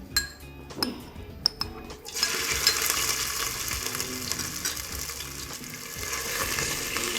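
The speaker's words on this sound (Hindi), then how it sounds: "इसको तकरीबन 1 मिनट तक फ्राई करें।" Clinks of a utensil against a pan, then a loud sizzle as ginger garlic paste hits hot oil, crackling steadily and close with occasional stirring scrapes.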